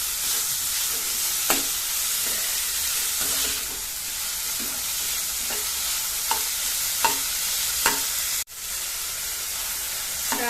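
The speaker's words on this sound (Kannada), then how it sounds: "ಇದನ್ನು ನಾವೀಗ ಒಳ್ಳೆ ಬ್ರೌನ್ ಆಗೋ ತನಕ ಹುರ್ಕೊಳ್ಳುವ," Rajma curry masala frying in a pan, a continuous close sizzle broken by several scraping stirs of a spoon, with a brief clatter near the end.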